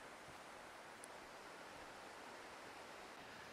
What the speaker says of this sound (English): So I can start hearing the falls now.